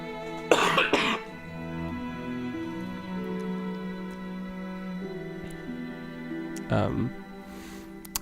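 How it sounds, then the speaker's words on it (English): Two harsh coughing bursts from a person with a cold, one early and one later, close to the microphone, with steady tonal music from Dark Souls playing throughout. "Sorry for my extremely radical coughs"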